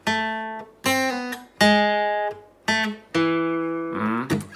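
Guitar plays section two of a theme, a series of about six distinct picked notes or chords with clear gaps between them, close and fairly loud, ending with a brief scratchy strum; no talking.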